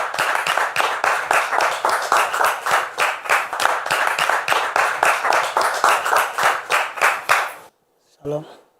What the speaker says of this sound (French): qu'on puisse recevoir le frère Joseph maintenant sous vos applaudissements